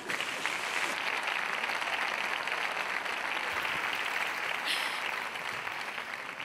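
Audience applause for a speaker at a Naukas science talk event in Murcia, a dense, steady wash of clapping from a crowd that holds evenly throughout without any voices over it.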